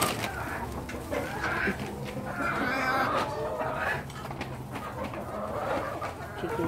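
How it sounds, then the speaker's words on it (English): Backyard chickens clucking softly while pecking at layer feed from a feeder, several birds giving short, scattered calls at a middle distance over faint background noise. "Chicken probably just starting to eat food."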